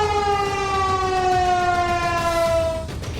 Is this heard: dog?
no